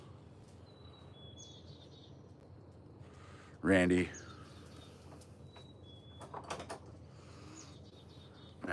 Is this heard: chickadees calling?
yes